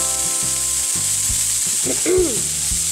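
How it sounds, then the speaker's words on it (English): Chopped apple sautés in a hot pan for a kale salad, giving a steady close frying sizzle with a few stirring scrapes and a brief clatter, and no voices. "So I'm going to take my chopped apple and drop it in here and saute it too"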